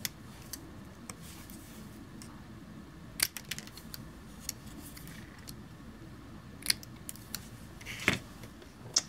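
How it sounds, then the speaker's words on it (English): Scissors cut a paper fishtail banner for a handmade card, making sparse, crisp snips and small clicks at irregular intervals, close by and fairly quiet over a low room hum. "I cut in the center and then I cut off the sides"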